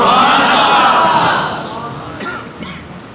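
A large crowd at a religious gathering roars a slogan together, loud and dense at first, then fading into scattered voices and a few trailing shouts.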